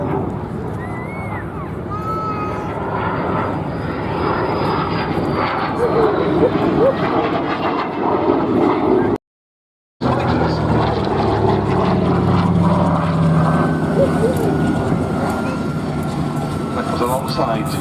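A wartime-era fighter aircraft flies at the Duxford Battle of Britain airshow, its engine a continuous, steady drone across the whole stretch, with a commentator's voice over it.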